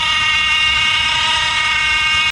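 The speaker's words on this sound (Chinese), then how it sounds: "电子节温器异响" A car engine with a faulty electronic thermostat gives off a close, steady whine layered with tonal hum over a constant running drone, uninterrupted, with no speech, cutting off abruptly at the end.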